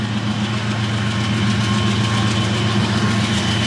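A loud, steady low engine rumble with a constant droning hum, a Norfolk Southern freight train with four locomotives passing close by, no voices.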